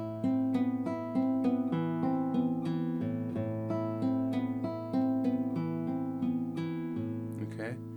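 Classical guitar plays bars 10 and 11 of Leo Brouwer's Etude No. 6 as an even flow of arpeggiated plucked notes ringing over a held bass, close and solo, ending with a faint brush of noise.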